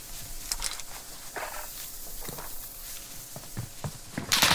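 Footsteps thud faintly in Call of Duty Warzone Rebirth solos, a few scattered soft steps and scuffs over a quiet game background.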